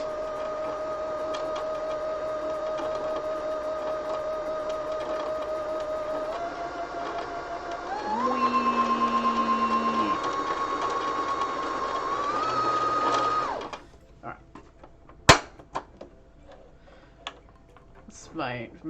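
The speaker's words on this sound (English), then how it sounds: "My most favorite part of using a sewing machine, just putting thread on a bobbin." A sewing machine motor winds thread onto a bobbin with a steady whirring hum that steps up in pitch partway through, runs for about thirteen seconds, then stops, followed by small clicks and handling noises.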